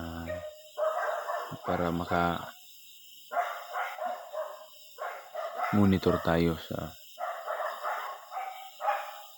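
Dogs bark at night in short clustered volleys, some distance away, while someone talks quietly nearby through most of it.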